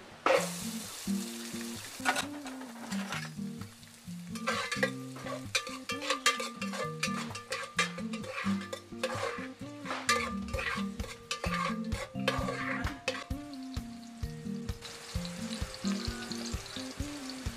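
Whole spices and onion fry in oil in a pan, a strong, close sizzle broken by repeated stirring scrapes and occasional clinks of the utensil over a long stretch without speech.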